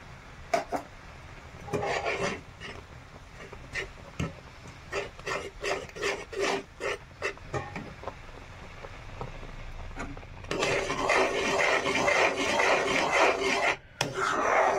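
A utensil scrapes around the bottom of a pan of milk being cooked down into kheer, making rhythmic rasping strokes that are close and clear and turn into a denser, continuous scraping near the end.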